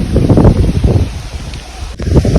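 Strong wind gusting across an open riverside field of grass near the Sabarmati River, a loud buffeting rush hitting the microphone in waves with a brief dip near the end.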